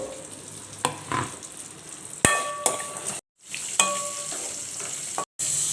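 Onions and chilies sautéing in a pan for a Tamil chicken and mutton dish, a steady soft sizzle with a few sharp metal clangs of a spoon stirring against the pan and brief silent gaps.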